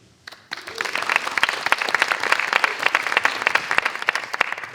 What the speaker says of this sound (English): Thank you for the extra clap.